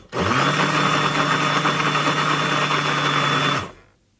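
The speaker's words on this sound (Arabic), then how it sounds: "فالان راح نقفلها ونخلط" An electric blender whirs loudly for about three and a half seconds, mixing a peri-peri chicken marinade. The motor starts abruptly, runs at a steady high-pitched whine with a rough grinding edge, then cuts off and spins down briefly.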